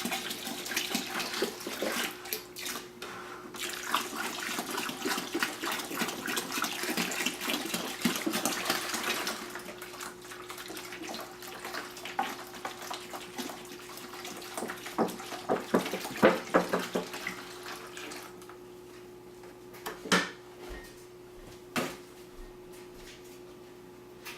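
Spring water pours steadily into a winemaking container with a rushing, splashing sound, then tapers off into quieter trickles and small knocks.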